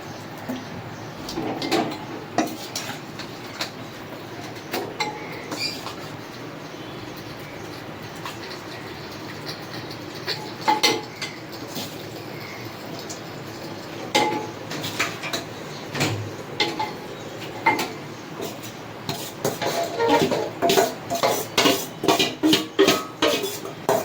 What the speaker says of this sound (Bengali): মটনের টুকরোগুলো আবার দিয়ে দেবো